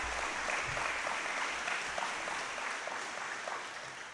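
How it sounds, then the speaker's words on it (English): Audience applause fills a school gym at a senior awards ceremony, steady dense clapping from a crowd that carries on throughout and slowly tapers. "Clap it up for him."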